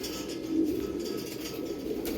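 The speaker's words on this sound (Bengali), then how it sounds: "দেখুন পায়রা" Pigeons of a prized flying bloodline cooing softly in a home loft, a low murmuring coo under steady background hiss, with no talking.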